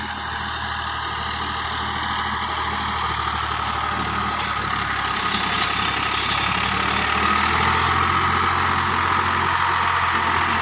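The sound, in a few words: Millat tractor engine running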